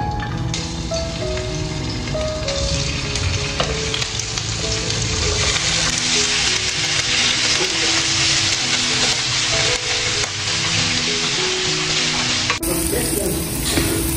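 Tofu frying in hot oil in a pan on a home kitchen stove, a steady loud sizzle and crackle lasting throughout with no talk.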